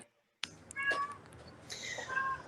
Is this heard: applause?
no